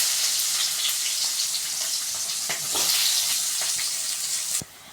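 Fenugreek seeds and onion fry in hot oil with a loud, dense sizzle that holds steady for nearly five seconds. A few faint clicks of stirring sound under it before the sizzle drops off sharply at the end.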